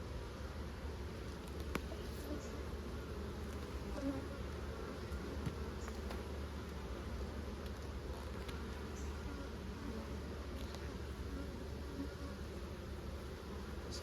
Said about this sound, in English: I could hear her buzzing my head.